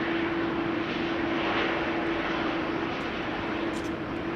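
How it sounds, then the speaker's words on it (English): A KLM airliner arriving at Amsterdam Schiphol Airport, heard as a steady, fairly loud jet engine roar with a constant whine, sustained without talk. "KLM coming in. Having arrived from Oslo, KLM flight 1198."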